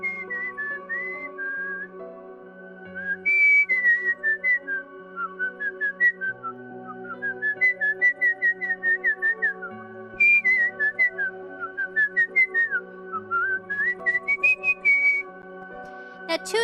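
A person whistles a bright, bouncy melody from a Nintendo cat game, with clear rising and falling notes in quick rhythmic runs over a steady background music bed, loud and close throughout.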